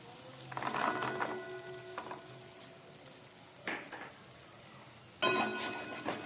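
Peas go into an onion-ginger masala sizzling in oil for a Gathi Kochur Dom taro curry, with a quiet background sizzle. Three separate bursts of clattering and stirring against the pan break in, the last one loudest.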